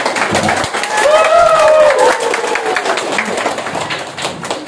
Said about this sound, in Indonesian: kita berikan tepukan kepada mereka